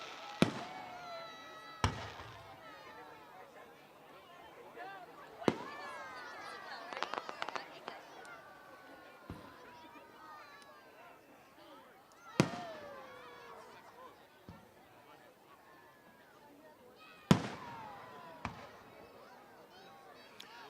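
A fireworks display at Berkeley Marina booms in sharp, widely spaced explosions with crackling bursts between them, while people talk and exclaim throughout.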